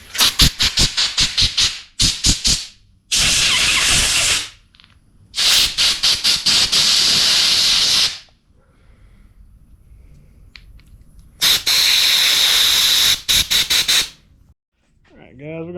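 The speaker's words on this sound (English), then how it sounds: "So I'm gonna get my compressed air real quick and blow this out." Compressed air blasting through the clogged tip of a turbo spray paint can in loud, hissing bursts: several short rapid spurts, then three long sustained blasts with quiet gaps between.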